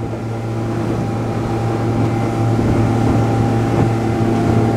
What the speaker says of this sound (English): So I'm just gonna go straight through some of this swell here, and I'll drop the nose just a little bit.